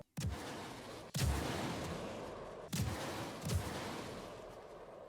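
Weapons on a Taurus ship fire in the space game Star Citizen, with three heavy booming blasts at uneven intervals, each followed by a long rumbling decay, loud and close with no voices.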